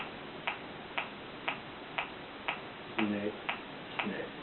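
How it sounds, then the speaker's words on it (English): A steady mysterious ticking in a comedy sketch: evenly spaced ticks about every half second, moderately loud, with a brief muffled voice or tone near the end. "that mysterious ticking sound."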